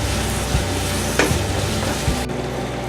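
Egg biryani masala is stirred and mixed in a frying pan, with a steady close sizzle of frying and a few spoon scrapes and knocks against the pan.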